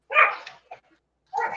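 Dog barks in the PUBG Battlegrounds video game: a loud harsh bark, a short quieter yelp, then another bark after a brief pause, clear and close with no talk over them.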